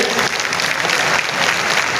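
Loud, dense crowd applause at a political gathering welcoming Congress party president Mallikarjun Kharge, sustained and uniform throughout.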